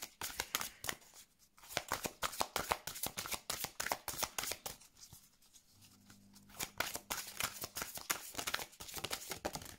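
Tarot cards being shuffled close up, a steady run of soft riffling and flicking bursts that pause briefly and start again, with no talking.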